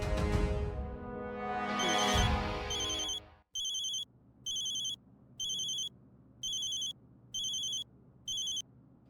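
A mobile phone rings with a repeating electronic tone in regular short bursts after a loud music swell, with steady background hum in a TV comedy scene.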